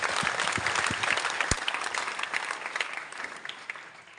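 An audience applauds at a village prize distribution ceremony for top U.P. Board students, with a few sharp claps at first and then dense, sustained clapping that tapers off gradually.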